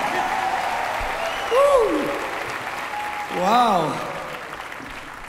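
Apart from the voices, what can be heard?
concert audience applause for mariachi band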